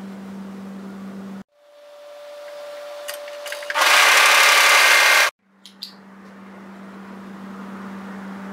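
An overlocker stitches a short cuff seam in a loud burst of about a second and a half, set between quieter stretches of steady hum.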